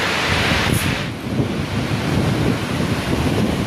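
Unchalli Falls roars from a forested viewpoint, a loud, steady broadband rush of falling water mixed with wind buffeting the microphone, continuous throughout.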